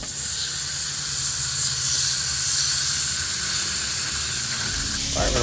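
Skirt steak hisses and sizzles steadily on hot grill grates of a gas grill, a loud close continuous frying hiss with no talk.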